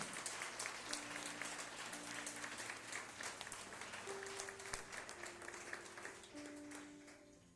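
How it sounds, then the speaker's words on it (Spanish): A church congregation claps for a Spanish-language preacher, sustained crowded applause that fills the hall evenly, with brief held organ-like tones threading through it. "Dale ese aplauso al Rey."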